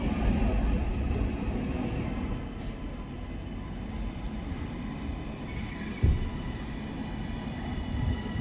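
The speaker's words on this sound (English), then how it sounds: "my train is here now" A train pulls into a station on a heritage railway, heard as a low continuous rumble of rolling stock with occasional clanks and a brief thump, moderately distant and without talk.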